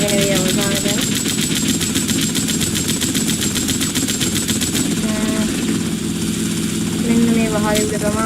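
Rapid automatic gunfire rattles steadily in GTA Vice City gameplay, a dense stream of shots over loud game sound with short tonal cues, continuous throughout.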